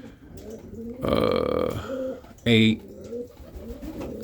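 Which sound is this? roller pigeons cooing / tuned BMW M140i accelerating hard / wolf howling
roller pigeons cooing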